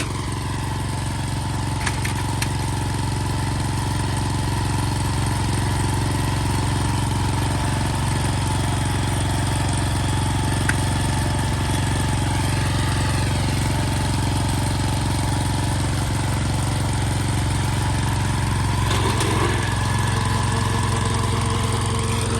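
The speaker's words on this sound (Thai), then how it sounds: "นี่ตอนนี้เราก็ใส่เกียร์โรตารี่มาตรงรลแล้วนะคะเดี๋ยวเราก็จะมาดูการทำงานของโรตารี่กันค่ะ" A tractor driving a rotary tiller runs as a steady, loud, continuous engine drone with a low rumble, holding an even pace throughout with no talking.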